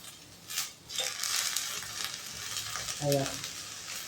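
Frying in a pan with ginger paste, a loud close sizzle with bursts of crackling and scraping as the contents are stirred, alone without speech.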